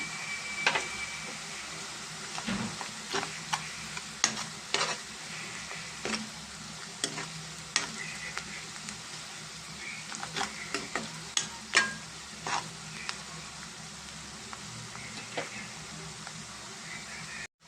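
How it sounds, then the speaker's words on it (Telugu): Onions frying with salt and turmeric in a pan, a steady sizzle with irregular scraping and clinks of a spoon stirring throughout, close and moderately loud, no talking. "బాగా ఫ్రై అవ్వాలి కలుపుతున్నామండి"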